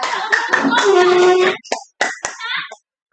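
A group in a classroom workshop performs the tepuk semangat spirit clap: loud, rhythmic bursts of clapping broken by short pauses, with voices mixed in among the claps.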